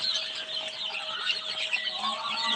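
Desi chickens on a farm keep up a dense, continuous chorus of high clucks and chirps at close range, with no pause throughout.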